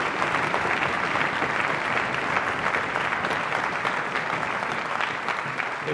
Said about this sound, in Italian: Io naturalmente vi chiedo un ultimo applauso